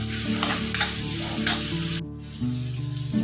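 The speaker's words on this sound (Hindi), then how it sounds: "अब ये जा रहा है इसमें प्याज, इसको भी हल्का सा फ्राई किया जाएगा।" Onions and tomatoes fry in a pan with a steady, close sizzle and bursts of stirring, briefly easing for a moment before the crackle returns.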